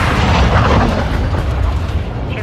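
A grenade goes off in Call of Duty Warzone 2.0, a loud, rumbling blast with a dense roar that stays heavy across the whole moment before easing slightly at the end.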